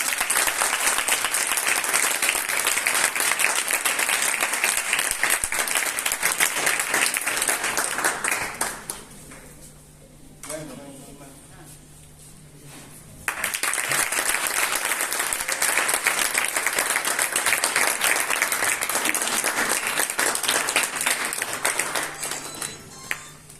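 A ceremony audience honouring women on International Women's Day claps loudly and continuously. The applause breaks off into a few seconds of quieter room sound, then surges back at full strength.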